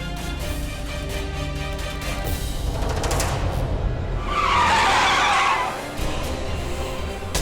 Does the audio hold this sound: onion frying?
no